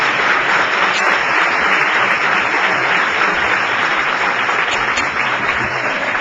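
Loud, sustained applause from a luncheon audience, a thick continuous roar of clapping that stays steady from start to finish.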